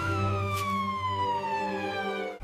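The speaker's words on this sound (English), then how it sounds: "Look! The ambulance!" An ambulance siren wailing steadily at close range, a loud continuous tone gliding slowly downward before cutting off abruptly near the end, with no speech.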